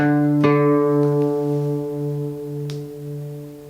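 A single plucked guitar note rings out as the string is tuned, its tone wavering in a slow warble while it gradually fades.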